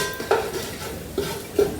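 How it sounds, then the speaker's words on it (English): Bay leaf and cayenne pepper are stirred through oil in a pot for a sweet potato curry, with a few soft, close scrapes and light clinks of the spoon over a faint background hiss. "you're just going to stir that around in the oil"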